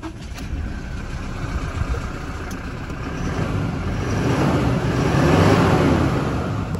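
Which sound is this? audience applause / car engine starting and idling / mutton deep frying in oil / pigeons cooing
car engine starting and idling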